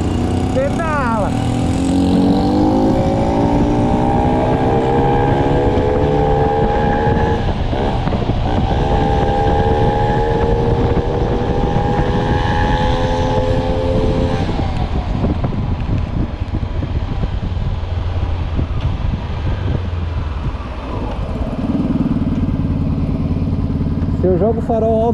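A four-stroke moped ridden through city streets between Jardins and Vila Madalena, its close, steady engine drone rising and falling in pitch under heavy wind buffeting, with a brief dip near the end.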